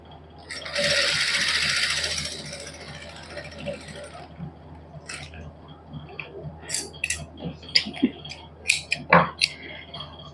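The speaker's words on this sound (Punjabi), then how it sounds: "ਹੁਣ ਉੱਪਰਲੀ ਸਲਾਈ ਜਿਹੜੀ ਆਪਾਂ ਉੱਪਰ ਲਾਈ ਸੀ ਉਹਦੇ ਉੱਪਰ ਹੀ ਲਾਵਾਂਗੇ ਸਲਾਈ" Domestic sewing machine stitching a seam on a salwar garment, running in a fast whirring burst near the start. Scattered clicks and handling noises follow as the fabric is repositioned.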